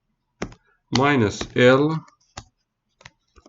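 A computer keyboard clicks with a few scattered, sparse keystrokes around steady speech.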